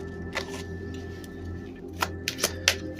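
Tarot cards are handled and drawn from a deck in a quiet room, giving a few soft flicks and sharper snaps near the end over a low background hum.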